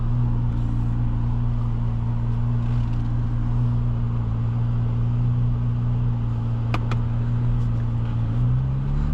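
A 2023 Chevrolet Corvette Z06 engine hums steadily at close range while driving, a low constant drone with a faint rise near the end, no voices.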